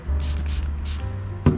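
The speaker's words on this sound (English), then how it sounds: "I'm just gonna start spraying it" Short bursts from a spray bottle of isopropyl alcohol hit RockShox Monarch rear shock parts during a service, three or four quick close hisses over a steady low hum, ending with a sharp knock.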